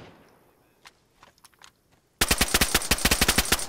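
Automatic gunfire in the DayZ video game on PS5, a few faint scattered clicks followed by a sudden loud rapid burst of repeated shots close by, no talking.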